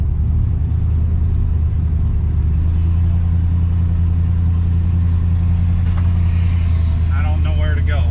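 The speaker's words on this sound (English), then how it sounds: "This truck is pissed." A hot rod truck engine rumbles loud and steady throughout, its deep low drone filling the clip with a slight rise toward the end, close to the microphone.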